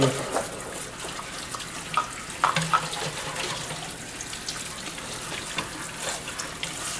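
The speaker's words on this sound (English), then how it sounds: "I'm going to rinse them, and then I'm going to put them on this towel to dry" Tap water runs steadily into a sink while hot peppers are rinsed, a close, continuous splashing flow with a few brief clunks and handling sounds over it.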